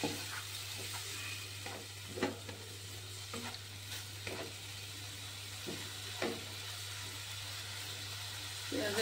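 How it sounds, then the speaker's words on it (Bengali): Ginger and garlic paste frying in oil over a medium flame while preparing a spicy tangra fish curry: a low, steady sizzle with occasional stirring scrapes over a constant hum. "আদা বাটা দিয়ে দিচ্ছি, রসুন বাটা দিয়ে দিচ্ছি। এর এগুলো একটু কষিয়ে নেব"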